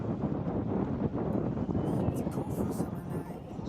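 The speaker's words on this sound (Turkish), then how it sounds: "Hafif rüzgar esiyor." Steady light wind rushes and buffets against the microphone outdoors on the coast at Yeni Foça, a constant breezy roar with faint water-like wash underneath.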